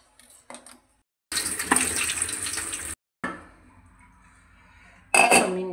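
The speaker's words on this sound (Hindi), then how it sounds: "अब हम एक दफ़ा इनको वॉश कर लेते हैं।" Potatoes cut into long chip-style sticks are rinsed under a running kitchen tap, a loud steady rush of water lasting a couple of seconds, then a quieter trickle and a final short burst of flow; no talk.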